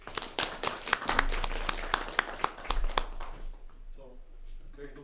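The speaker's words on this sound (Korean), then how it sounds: "박수 한번 쳐주세요." Audience clapping at a Korean public-service hiring info session: a crisp, fairly close patter of hands that starts at once and fades out after about three seconds, followed by a voice speaking.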